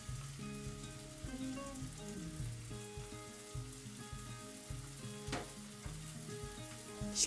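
Onions sizzle in a frying pan as flour is sprinkled in, a quiet, steady crackling fry with soft stirring scrapes and intermittent pops.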